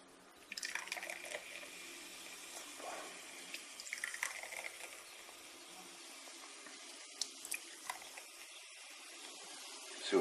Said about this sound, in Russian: Наливаю в 3 бокальчика